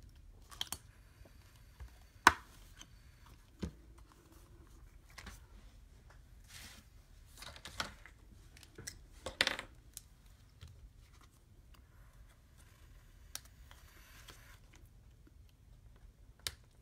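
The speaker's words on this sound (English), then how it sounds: "I'm going to punch in the same hole." Scattered sharp clicks and snaps from a hand punch pressing through card, faint and close, with several separate bursts spread over a quiet background and no talking.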